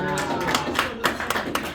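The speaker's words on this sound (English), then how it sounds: "a round of applause as you go back" Audience at a magic show in Nashville's House of Cards clapping, a dense continuous patter of hands with a few sharper accents, fairly close and steady throughout.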